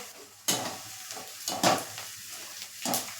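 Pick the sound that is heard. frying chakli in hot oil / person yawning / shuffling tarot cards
frying chakli in hot oil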